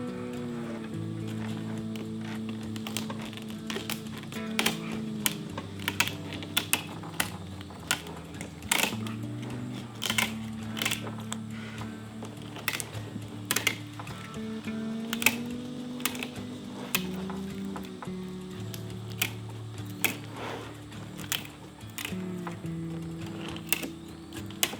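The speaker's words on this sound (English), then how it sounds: "So what we're gonna start is just go straight down the back with the tin snips." Repeated crisp snipping and crunching as tin snips cut down the tough scaled back of a longnose gar, an irregular series of sharp clicks over a low ambient background.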